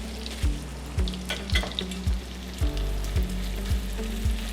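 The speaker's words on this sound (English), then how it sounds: "we can turn the fire off and let them continue to cook because we don't want our mint jelly to burn" Lamb sizzles steadily in a hot pan with rosemary oil, garlic and mint jelly, a loud continuous frying hiss broken by regular low thumps about every half second, with no talking.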